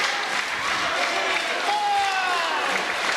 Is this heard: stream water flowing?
no